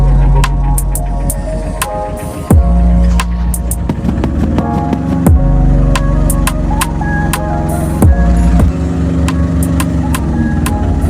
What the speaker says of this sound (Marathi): एवढा महिनाभर बंद असून तरी आपली गाडी एकदम मस्त चालू आहे